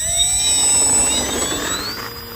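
An Arrows F4U-4 Corsair 1100mm RC model plane takes off at full speed with a loud, rising electric motor whine whose pitch climbs steadily over an airy rush, close by and with no talking.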